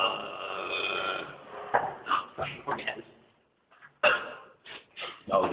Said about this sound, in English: This is a good burp.